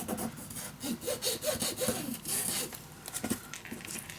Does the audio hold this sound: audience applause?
no